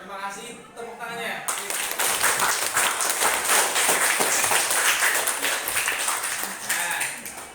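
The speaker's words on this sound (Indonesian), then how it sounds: "Terima kasih, tepuk tangannya." Applause from a classroom group of teachers after a group presentation, many hands clapping close by in a dense, steady burst that starts after a brief spoken moment and carries on to the end, with some voices mixed in.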